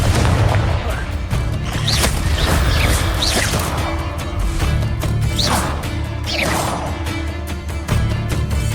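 Explosive blasting from a magic spell in a video game, with repeated booms, crashes and whooshing bursts layered thickly over rumbling background effects, loud and close, and some voices in the mix.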